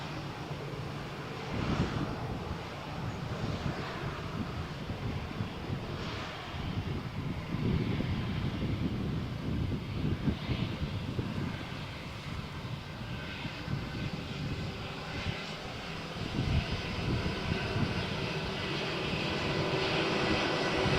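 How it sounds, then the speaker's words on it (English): A British Airways airliner taxis at Malaga Airport on a stormy morning, its engines giving off a steady, moderately distant roar with a rumbling low end and gusty wind noise, and no voices. "Here you can see British Airways flight taxiing"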